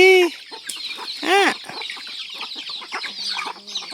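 Several chickens cluck and squawk close by, a busy run of short, overlapping calls opening with a louder squawk and another burst midway.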